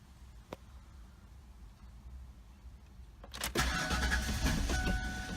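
A 1996 Ford Explorer that sat unused for two years cranking over: quiet idle-like hum at first, then a loud starter churn and engine roar kicking in past three seconds and continuing steadily.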